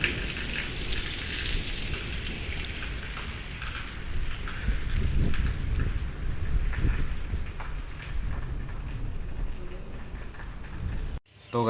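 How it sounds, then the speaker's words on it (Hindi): Heavy rain falls steadily in Multan in cold weather, making a dense continuous hiss and patter that stays loud throughout before cutting off abruptly at the end. "बहुत ही बारिश हो रही है।"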